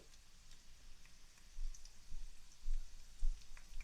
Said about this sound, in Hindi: ऑयल जब गर्म हो जाएगा तो हमने इसमें डाल देने हैं ऑनियन।